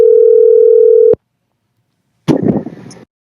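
A single long telephone ring tone on an outgoing call, steady and loud for about a second, then silence, then a short burst of muffled noise as the line connects.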